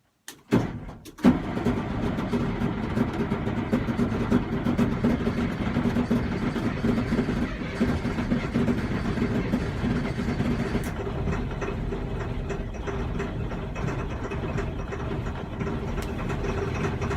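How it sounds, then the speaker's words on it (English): A vehicle engine cranks and fires up after a brief knock, then settles into a steady low idling rumble that carries on alone at moderate level, running while its central tire inflation system is checked. "I'm going to go ahead and start this vehicle"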